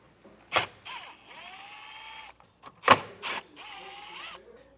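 A cordless driver with a T15 Torx bit backs out taillight screws on a 2024 Chevrolet Trailblazer, making two short whirring bursts with ratcheting clicks and pauses between them, close and fairly loud.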